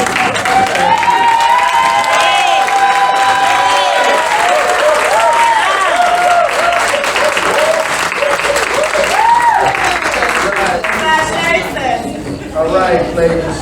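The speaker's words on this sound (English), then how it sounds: "please stand up and give them a round of applause for all that" A standing audience at a parent mentors event applauds and cheers for two sisters, sustained clapping with whoops and excited voices rising over it throughout.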